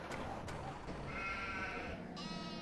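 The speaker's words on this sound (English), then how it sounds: "We got my sheep over here." Sheep bleating in the farming video game Farming Simulator 15, a few drawn-out bleats over a steady background bed with no voices.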